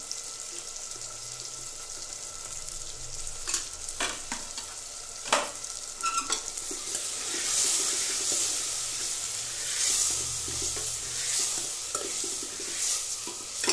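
Vegetables fry and crackle in a pan with a constant sizzle, punctuated by sharp utensil clicks and scrapes as they are stirred.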